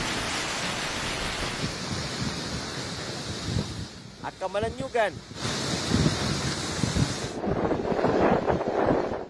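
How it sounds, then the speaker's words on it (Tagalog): Strong typhoon wind roars in broad gusts over a coastal town, buffeting the microphone loudly with a brief lull, while a reporter speaks over it. "Humahambalos din ang hangin sa bayan ng Santa Praxedes"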